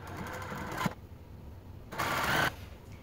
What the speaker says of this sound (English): I'm just going to go ahead and begin sewing